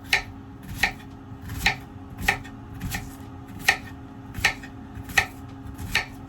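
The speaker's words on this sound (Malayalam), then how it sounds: "സബോള സിമ്പിളായിട്ട് കട്ട് ചെയ്യണം" A knife chops an onion on a board at a winter campsite, about nine crisp, evenly spaced strokes ringing out close and alone over a low background hum.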